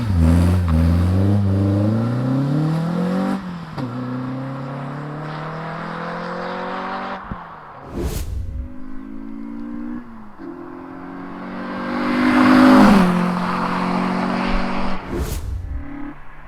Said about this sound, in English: let's get down on the strip and get some sounds, some flybys